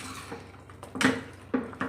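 Ground masala paste being stirred into chicken chops in a pressure cooker, with a few sharp metallic clinks and scrapes of a utensil against the pot spaced across the moment, close and fairly quiet.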